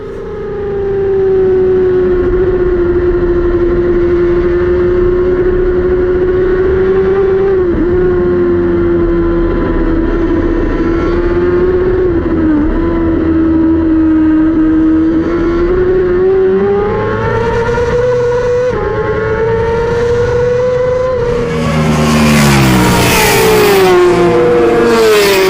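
Yamaha R6 racing motorcycle engines in a video game race, a loud sustained high-revving engine drone that rises and falls with gear changes for the whole stretch, ending in sharper revving and pass-bys, no speech.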